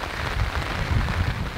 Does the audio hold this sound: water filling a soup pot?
no